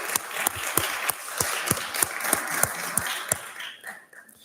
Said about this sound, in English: let's give those Scoutmasters a round of applause